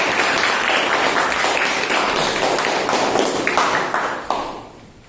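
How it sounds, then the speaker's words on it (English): A dense burst of clapping during an online Toastmasters club meeting, loud and close with sharp tapping hits throughout. It thins out and fades away over the last second. "So, big round of applause for them."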